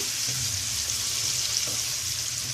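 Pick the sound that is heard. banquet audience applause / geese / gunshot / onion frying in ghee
onion frying in ghee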